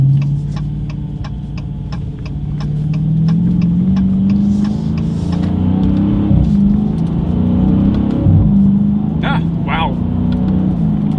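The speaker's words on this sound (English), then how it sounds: "let's find a straightaway and let's see how quickly these paddle shifters are going to react for us here." A 2021 Dodge Challenger 6.4 Scat Pack accelerates hard with paddle shifts, its V8 engine droning and rising in pitch with rapid gear changes, loud from inside the cabin as a person talks over it.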